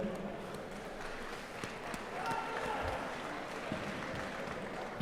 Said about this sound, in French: je voulais qu'on l'applaudisse